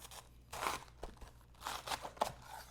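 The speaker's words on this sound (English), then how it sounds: "We're gonna cut the cabbage in half." Crunchy slicing of a knife through a purple cabbage, a few crisp cuts in quick succession, close and fairly quiet.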